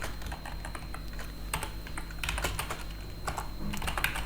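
Typing on a computer keyboard while writing React Native code, a quick irregular run of key clicks with small bursts and pauses, close and clear over a low background hum, with no voices.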